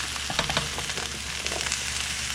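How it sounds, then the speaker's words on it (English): Summer squash sizzles in a hot pan with potatoes, a steady crackling fry with a few louder pops and scrapes, close and without talk. "so I'm going to go ahead and throw my squash into the pan"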